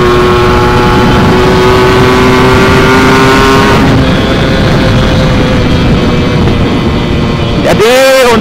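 Motorcycle fitted with a large TM 34 carburetor revving hard, a loud sustained engine drone with steady harmonic whine that shifts pitch midway and ends with a sharp rising-falling rev burst.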